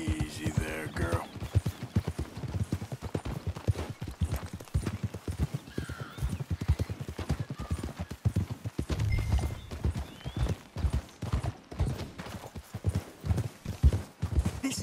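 Steady clip-clop of horse hooves walking throughout in Red Dead Redemption 2, with a horse whinnying near the start and a voice occasionally speaking over the hoofbeats.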